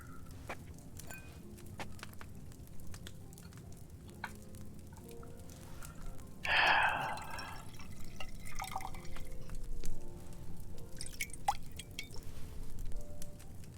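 Liquid is poured into an alchemy cauldron in the medieval game Kingdom Come: Deliverance II, a brief splashing gush at a steady level followed by scattered drips and faint clinks over a low, quiet background.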